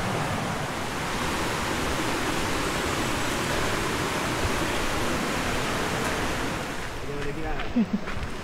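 Steady broadband rush of a jungle stream flowing past an Orang Asli village campsite, continuous and fairly loud throughout with no break, a faint voice briefly audible near the end.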